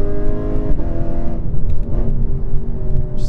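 A 2018 Lexus RC F driving on twisty back roads, its engine droning steadily with harmonic tones that rise and dip as the car works through the bends, loud and close throughout.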